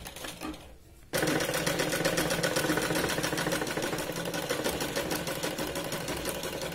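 A sewing machine stitching kurti fabric starts after a second of quiet, then runs steadily with a fast, even mechanical whir and rapid needle clatter, close and loud to the end.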